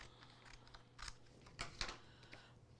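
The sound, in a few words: scissors cutting a piece of vinyl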